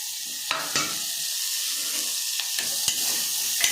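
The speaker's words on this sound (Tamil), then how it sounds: "அதுக்கப்புறம் காய்களெல்லாம் போட்டு வதக்கணும்ப்பா." Vegetables for a vegetable soup sauté in a pan with garlic, a steady close sizzle broken by a few sharp clicks and scrapes of stirring.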